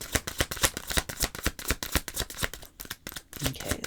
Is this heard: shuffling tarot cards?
yes